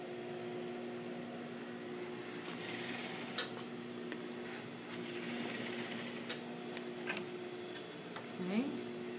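Sewing machine stitching a jacket sleeve onto the garment, a steady mechanical hum with scattered clicks and taps running throughout, close and moderately loud.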